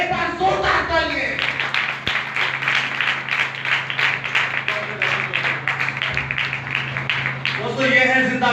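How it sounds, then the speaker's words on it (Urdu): A church congregation claps loudly in a quick, even rhythm of many hands striking together. A voice speaks briefly at the start and end. "خدا بائبل مقدس کے لیے ایک بار زوردار تالیاں"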